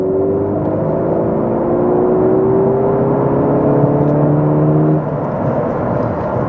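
A Ford Focus with a 1.6 EcoBoost petrol engine pulls hard in third gear from 60 to 100 km/h, its engine note climbing steadily and loudly before easing off near the end, heard from inside without talking.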